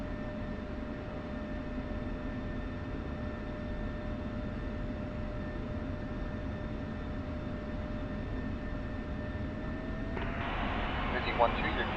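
F-16 Viper jet in DCS World sits at steady engine roar with a constant whine, swelling into a louder rushing blast near the end as takeoff power comes in, with radio voices speaking over it.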